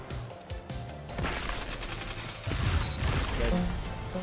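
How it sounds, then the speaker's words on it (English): Submachine gun fire in a fast online shooter game, dense rapid bursts of shots layered over game noise, fairly quiet overall and growing busier midway, with no talk. "I'm just gonna sit on the point, because he has a submachine gun."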